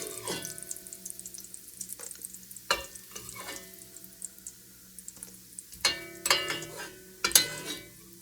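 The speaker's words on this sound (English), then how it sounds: "I'm going to sear the beef in batches" Beef searing in bacon fat in a pan, a faint continuous sizzle broken by scrapes, clinks and sharper bursts of spitting as pieces are moved, with no talking.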